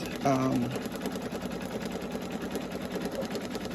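A Brother Innovis VE2200 embroidery machine stitches a towel with a rapid, steady mechanical whirring, close and continuous, starting with a short beep while a person talks over it.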